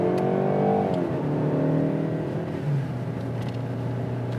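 A 2018 Jaguar E-PACE accelerates through its nine-speed ZF automatic, with a loud engine drone heard from inside that rises and then drops as it shifts to the next gear.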